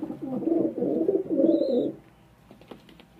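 Pigeons in a home breeding loft coo in low, rolling phrases, close and steady for about two seconds, then fall quiet, with a brief higher call overhead.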